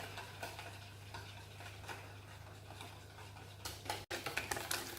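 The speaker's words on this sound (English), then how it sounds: "give them a good mix. Make sure I mix them very well" Soft, continuous whisk-and-scrape of eggs, cornstarch and sugar being mixed in a bowl for eclair filling, with a low steady hum behind it and a few sharper clinks near the end.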